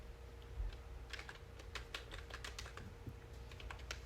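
A quiet, steady run of computer keyboard clicks sounds as a compiler command for a C program is typed into a terminal. No one speaks.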